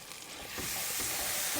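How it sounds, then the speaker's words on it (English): Pesto hits hot oil in a pan and sizzles steadily, the frying hiss swelling louder and holding, close and continuous with no talking. "I like to fry off the pesto a little bit"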